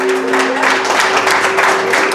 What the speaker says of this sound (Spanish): Muy bien, fuerte el aplauso.